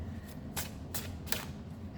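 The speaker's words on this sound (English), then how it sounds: "trying to shuffle the whole thing" A tarot deck shuffled by hand, three quick bright riffling bursts in a row, close and fairly soft against a low background hum.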